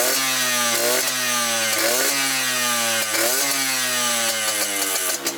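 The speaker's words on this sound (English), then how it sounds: "the motor does sound a little noisy" Yamaha YSR50 mini bike with an upgraded exhaust and carburettor, its small two-stroke engine buzzing loud and close in repeated short revs that rise and dip, rough and a bit noisy, with no talking.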